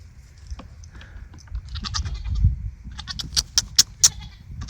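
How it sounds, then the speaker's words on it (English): Several goats bleat in short, sharp calls, some close and loud, others fainter with a slight echo off a barn, in a quiet outdoor setting. "their calls echo off the barn up there, so they go looking for other goats."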